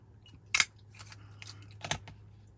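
Scissors fussy cut small scraps of white paper in a quiet room, giving two distinct crisp snips plus several softer snipping and paper-rustling sounds close to the microphone.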